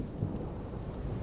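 Rain falling with a low rumble of thunder in Skyrim, a soft dense patter under a deep muffled roll, quiet and brief with no talking.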